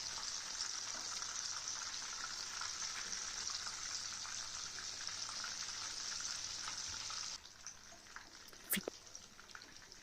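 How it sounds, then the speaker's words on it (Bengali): Laitta fish fillets fry in hot oil with a steady, fairly faint sizzle that drops off abruptly near the end, followed by a sharp clink or two. "এখন আমি উল্টে আরেকটা সাইড ভেজে নিব।"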